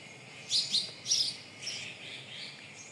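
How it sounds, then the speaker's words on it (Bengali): Birds chirp in short bright bursts, a few quick tweets early on, then softer scattered calls trailing off at a moderate distance. "আর পাখিগুলো একদম কিচিমিচি করতেছে দেখেন"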